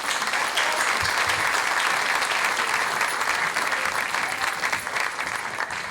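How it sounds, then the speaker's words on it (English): Sustained audience applause at a high school academic achievers ceremony, steady and dense clapping from a large crowd throughout, fairly loud and continuous without a break. "Let's give them another round of applause."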